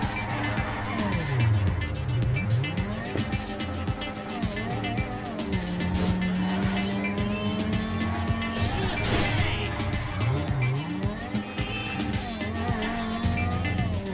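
A car in the video game GTA 5 drives at speed, its engine humming steadily and close, with rising and falling pitch sweeps and bursts of tire squeal on turns.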